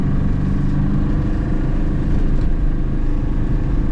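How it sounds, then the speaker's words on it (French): A small Aixam City Eclipse microcar engine drones steadily at high revs while accelerating, loud and close, with a constant buzzing roar and no pauses. "On a toujours en phase d'accélération un peu de bruit, surtout que le moteur tourne assez haut dans les tours"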